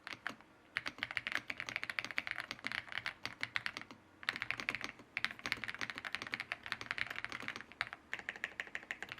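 Someone types on a FEKER IK85 mechanical keyboard fitted with Mulan linear switches, producing fast, dense clacking keystrokes close to the microphone, with a short pause midway before the typing resumes.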